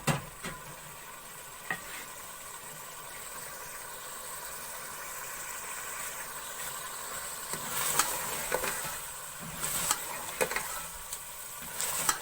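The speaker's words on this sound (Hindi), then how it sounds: "अब चूल्हा तेज करके थोड़ी देर भून लेंगे।" Boiled mutton browning in a pot over a high flame for turnip meat curry, with a steady soft sizzle and hiss and intermittent scraping clanks of a ladle stirring, fairly close and without talk.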